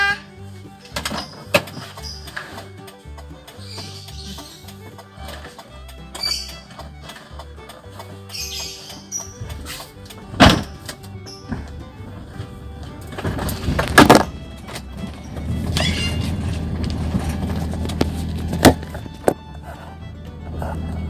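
A Suzuki car fitted with a new battery is started. Scattered clicks and knocks lead into the engine catching, then a steady low idle rumble continues up close.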